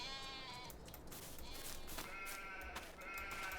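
Several sheep in the video game Farming Simulator 22 bleat repeatedly over a steady background hum, their calls overlapping at close range.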